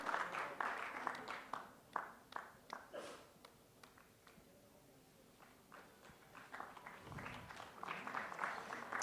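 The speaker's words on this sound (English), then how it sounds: "A round of applause for the third and the final winner of the day." An audience at a women's empowerment award gala applauding a winner, with scattered clapping that thins out in the middle and then swells again.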